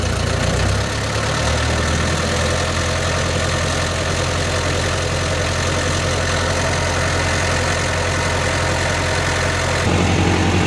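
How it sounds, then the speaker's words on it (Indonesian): A car engine runs at raised revs while one battery cable is disconnected, giving a loud, steady mechanical drone with a slight shift near the start and near the end, with no talk over it. "Kita naikkan gasnya, kemudian kita lepas salah satu kabel baterainya."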